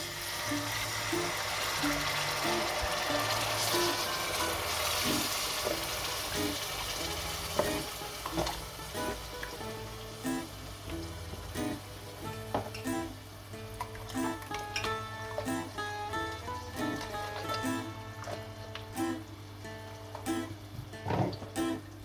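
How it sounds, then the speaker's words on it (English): Tomato passata poured into a pan of cooked onion over medium-low heat, a steady sizzle and frying hiss with stirring clatter running throughout, close and moderately loud, with no talk. "Now that the onion is cooked, I'm gonna put in the tomato passata."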